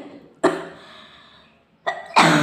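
A woman with a cold coughs nearby, two loud harsh coughs separated by a pause, close to the microphone.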